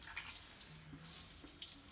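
A newly fitted spray faucet under a washbasin runs water in a steady, faint hiss with a soft splash into the sink, and no one speaks.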